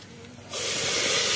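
A tadka of spices hitting hot oil bursts into a loud, sharp sizzle after a half-second of quiet, then holds as a steady bright hiss to the end.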